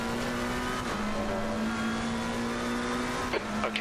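A McLaren 720S Evo GT3 race car in Assetto Corsa Competizione at Imola drones with a steady, loud engine note held at constant revs, with a brief dip as it shifts and a few sharp bursts near the end.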